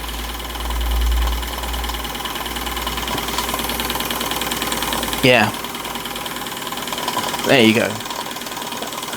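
A Stirlingkit Retrol GF-01 miniature workshop accessory runs from a model engine through a modified pulley, whirring and clicking steadily with a mechanical ratcheting rhythm, while someone speaks briefly over it.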